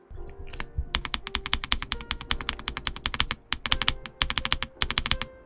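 Fast typing on a NuPhy Halo75 V2 mechanical keyboard with MSA-profile keycaps and a silicone-dampened space bar, crisp rapid clacks in uneven bursts, close and clear with no talking.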